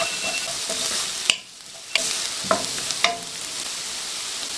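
Garlic and red onion frying in cooking oil, a continuous loud sizzle with sharp stirring scrapes at intervals and one brief dip in the hiss.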